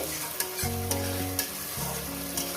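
Fried onion and spice paste cooked in a pan for mutton curry, with a close, steady sizzle, a low humming tone and a few sharp spoon scrapes.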